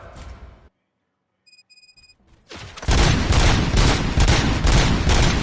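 A brief silence and a few electronic beeps give way to loud, rapid bursts of gunfire in the video game RoboCop: Rogue City that rattle on continuously, close and harsh.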